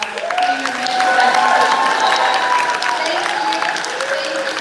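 A crowd applauds and cheers for senior men at an RMCWS gathering at Regis University, steady loud clapping with raised voices and whoops running throughout.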